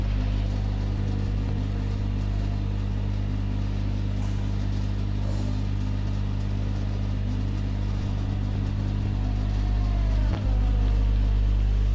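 A Formula 1 car in the F1 2021 video game rolls out of the pit garage onto the track, a steady, close engine drone with a brief rising rev near the end.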